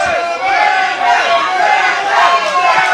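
A wrestling crowd at a CWF Mid-Atlantic show erupts in loud, sustained cheering and yelling, a dense roar of many voices that swells and holds for the whole stretch.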